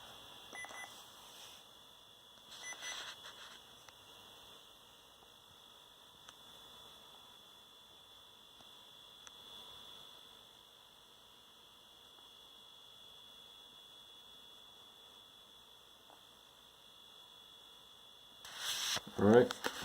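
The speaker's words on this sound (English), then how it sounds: "We got a beep, which can never be good." A ThinkPad 770x laptop starting up gives off a long, steady, high-pitched tone that holds for many seconds over faint hum, ending in a sudden louder burst of noise.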